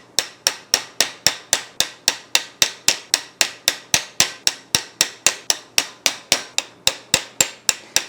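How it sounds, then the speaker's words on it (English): Steady series of sharp metallic hammer blows on a chisel, about three strikes per second, cross-hatching the handle of a hand-forged potato masher; close, loud and even, with no talking. "now we're going to come in with our chisel and we're going to add the cross hatching"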